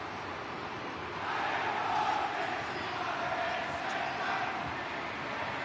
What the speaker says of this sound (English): The fans cheering along.